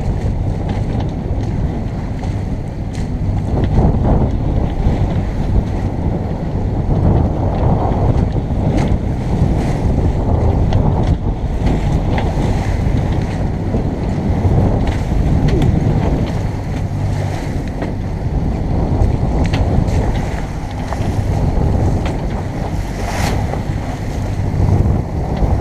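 A sailboat under way at sea, with steady wind buffeting the microphone and continuous rushing water and waves against the hull, loud and unbroken throughout.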